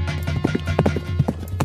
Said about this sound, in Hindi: ये घोड़े की आवाज कहाँ से आ रही है?